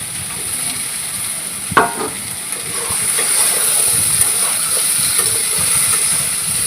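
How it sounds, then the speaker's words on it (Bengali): Vegetable stems and potatoes fry in hot oil with a steady, loud hiss and sizzle, broken near the start by one brief clatter. "ভাজা হয়ে যাওয়ার পর ডাঁটাগুলি ছেড়ে দেওয়া হলো"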